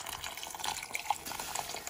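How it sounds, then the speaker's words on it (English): Water is poured into a pot of green lentil sprout soup with tomatoes, giving a short, close splashing and trickling stream with small bright bubbling accents. "we're going to add like some water"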